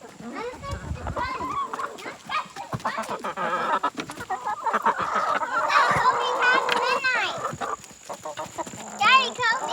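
Backyard chickens clucking and squawking repeatedly at close range on a small homestead, with a rooster kept nearby, the bird calls mixing with people talking throughout.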